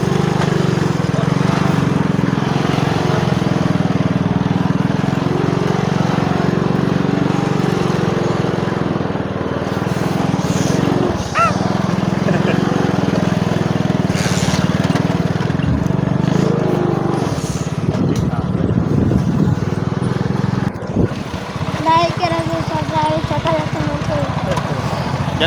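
Old motorcycle engine running, a steady loud low-pitched drone with a persistent mechanical hum throughout, occasional clatter and talk mixed in over it.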